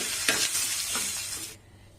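Hissing sizzle of cumin, turmeric, asafoetida and curry leaves frying in oil for gongura chutney, with a few stirring scrapes, close and loud, cutting off abruptly near the end.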